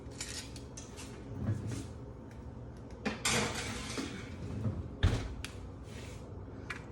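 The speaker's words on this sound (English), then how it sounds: "And I'm just gonna throw this in the oven." A pan of meatballs goes into an oven with scattered metallic clanks and rattles, two louder knocks and a soft thud against a quiet room background.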